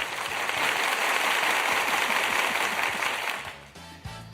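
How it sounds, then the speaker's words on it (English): A canned applause effect plays on a radio show, a steady wash of crowd clapping that fills the clip and fades near the end. "Applause."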